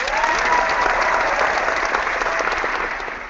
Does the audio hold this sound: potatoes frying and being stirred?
no